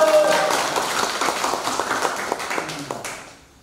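A congregation at a Bible school session clapping hands together in thanks to God, a lively, moderately loud burst of many claps that carries steadily before tapering off and fading out.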